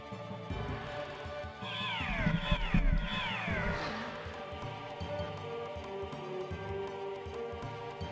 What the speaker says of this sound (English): We have a cat in front of the monitor